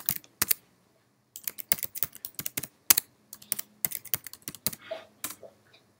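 A username and password typed on a computer keyboard: bursts of crisp, close keystrokes in quick uneven runs, separated by short silences.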